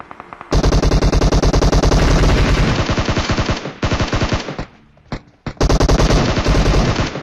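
Automatic weapon fire in the mobile battle-royale game PUBG Mobile: long, loud, rapid bursts of gunshots with brief gaps between volleys and no talking.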